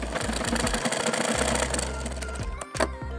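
Sewing machine running a straight seam on blouse fabric, a fast rapid whirring chatter of the needle in continuous bursts with short pauses, near and loud, no talk.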